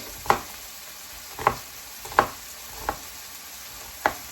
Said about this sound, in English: Is anyone else's stove loud like that one? That's pretty loud.